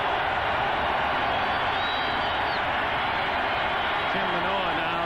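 Dense, steady roar of a stadium crowd at a Mile High football game in Denver, a loud continuous wash of voices filling the whole stretch with no pauses.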